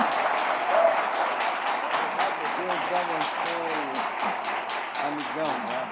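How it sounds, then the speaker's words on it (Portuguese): A church congregation applauds during a celebration service, sustained crowd clapping that fills the room while a voice speaks over it. "que você recebesse Geraldo Guimarães com um aplauso a Jesus pela vida dele"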